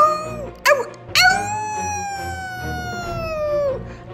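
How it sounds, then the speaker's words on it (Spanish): A long wolf-like howl rising then holding a steady tone before tapering, preceded by two short yelps, loud and close over a soft musical background. "En una noche oscura de luna llena, se escucha el aullido de un lobo."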